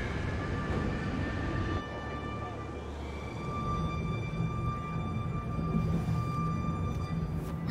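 A train in the video game Detroit: Become Human gives off a steady, close rumble with a constant low drone and faint high whining tones that continue unbroken throughout.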